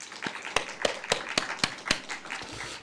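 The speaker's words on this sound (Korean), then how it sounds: "박수하겠습니다" A church congregation claps in a short burst of applause, sharp hand claps repeating in a quick rhythm through a reverberant room for a few seconds, with no speech over it.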